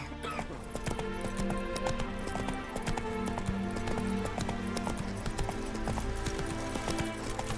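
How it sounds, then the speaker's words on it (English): In The Witcher 3, the horse Roach gallops with a rapid rhythmic clip-clop of hooves, layered over game music and ambience at moderate level, with a brief whinny. "Run, Roach."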